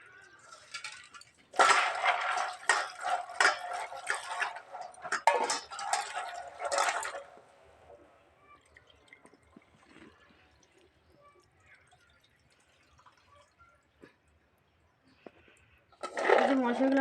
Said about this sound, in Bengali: মটরশুঁটিগুলো আমি এখন জলে ভালো করে ধুয়ে নেবো